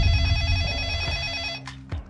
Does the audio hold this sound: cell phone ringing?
yes